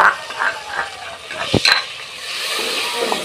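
Masala sizzles and fries in a pan while a utensil stirs it, with a sharp scrape of metal midway and a steady hiss throughout.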